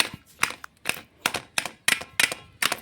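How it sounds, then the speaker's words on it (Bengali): A khurpi blade chops boiled cabbage and potato, giving about eight crisp, sharp strikes in a fairly even rhythm, close and clear with quiet gaps between. "এখন আমি সেদ্ধ বাঁধাকপি আর আলু খুরপি দিয়ে এইভাবে একটু কুচিয়ে নিচ্ছি।"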